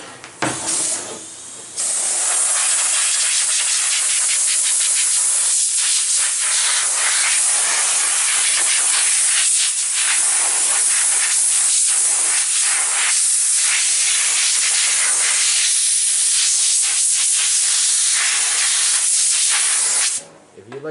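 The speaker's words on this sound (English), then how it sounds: "let me grab my air hose" Compressed air blasting from an air hose across a freshly copper-plated steel part makes a loud, steady hiss that runs almost twenty seconds without a break, starting after a short gap and cutting off sharply at the end.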